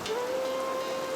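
Rain falling outside makes a steady, even hiss that holds unchanged through the brief moment, with a faint tone running above it.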